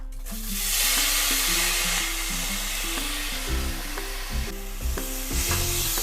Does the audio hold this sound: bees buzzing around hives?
no